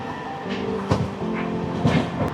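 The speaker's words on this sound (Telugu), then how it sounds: "ఈ ట్రైన్ పేరు ఈస్ట్ కోస్ట్ ఎక్స్ప్రెస్ చాలా చక్కగా ఉంది" The East Coast Express passenger train runs along the rails in India, its steady rumble and clatter heard from aboard, with a couple of sharper knocks or clunks rising over the constant rolling noise.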